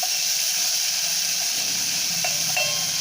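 Spices and vegetables sautéing in a pot, a steady close hiss and sizzle with a few faint scraping stirs near the end.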